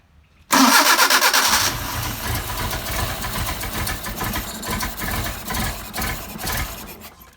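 A cold Mercedes 190SL engine with Solex carburettors cranks and catches on choke, bursting into a loud, uneven fast idle that settles into a steady, slightly lumpy running note close by.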